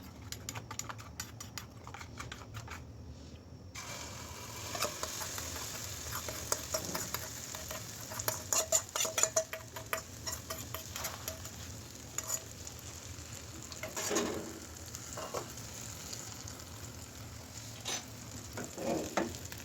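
Egg and vegetable batter sizzling in an oiled pan, a steady close frying hiss with scattered clicks and spatula taps, louder after the batter goes in, no talking.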